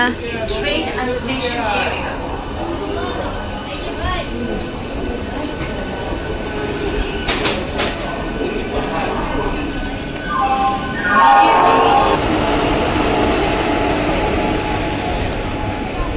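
A train pulls away at the station and runs with rumbling wheels and squealing rails, growing louder, while people talk and a station announcement plays.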